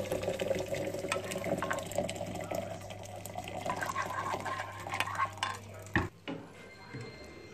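Marmalade being stirred into apple cake batter in a bowl, a close wet churning and scraping that carries on steadily, then breaks off into a few clinks and knocks near the end.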